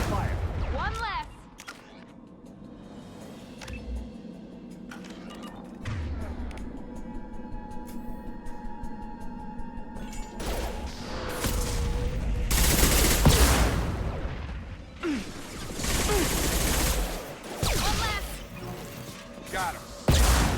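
Mass Effect 2 video game firefight, repeated gunshots and automatic bursts in dense clusters that swell and grow louder toward the end, with mechanical clatter and voices speaking between the shots.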